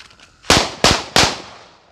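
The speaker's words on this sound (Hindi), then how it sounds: "इसमें से हम चार पीस लिए हैं और चारों को एक साथ चलाएंगे" Four Diwali firecrackers fire together as three sharp, loud bangs in quick succession, each trailing off briefly, heard close in the open.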